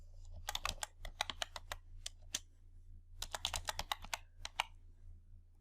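Close, quiet typing on a computer keyboard: irregular bursts of crisp key clicks in two flurries separated by a short pause, heard alone with no talk.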